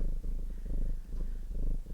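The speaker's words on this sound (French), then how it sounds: "Je vous mets le petit chat qui ronronne" Small cat purring close up, a soft continuous rumbling purr with a steady pulsing rhythm and no other sounds.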